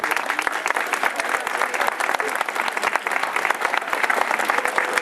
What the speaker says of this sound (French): je crois qu'on peut, franchement, les applaudir.